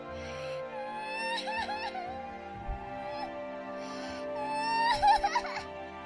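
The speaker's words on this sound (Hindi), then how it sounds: "एक बच्चे की रोने की आवाज आ रही थी" A baby cries and whimpers in wavering, drawn-out wails, rising and breaking into short sobbing bursts, fairly close and clear.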